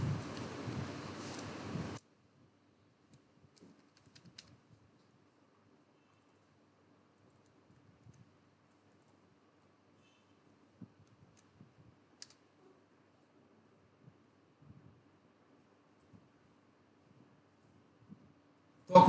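Quiet computer keyboard typing while entering a search term, sparse soft keystroke clicks scattered irregularly over a low hum, near and faint, with a short louder noise burst at the start.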